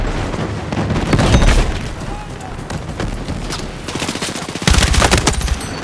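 Gunfire in the video game Battlefield 6, with rapid automatic bursts and heavy booms crowding a busy battlefield mix, loud throughout with a sharp surge of shots near the end.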